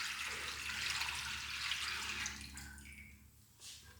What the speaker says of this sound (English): We have water in the water table, right?